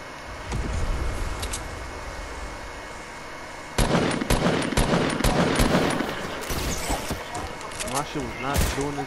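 Video game gunfire in rapid bursts of sharp shots, loud and close, starting partway through with a fast-firing stretch, while voices chatter over it.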